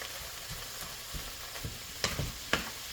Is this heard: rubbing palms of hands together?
no